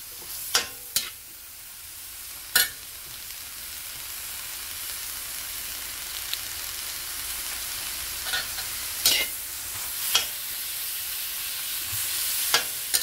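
Vegetables for bihon, seasoned with pepper powder, cook in a pan with a continuous close sizzle, punctuated by sharp utensil scrapes and clacks from stirring at irregular intervals; no talking.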